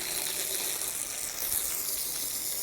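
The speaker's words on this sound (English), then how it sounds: "Now it's going to get the hose." A garden hose sprays water steadily to rinse soil off a jade plant, giving a constant close hiss without a break.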